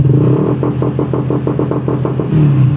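A Honda Click V3 scooter with a faulty replaced throttle position sensor revs under repeated throttle blips, giving a close, loud sequence of quick pulsing rises over a steady engine drone, with no talking.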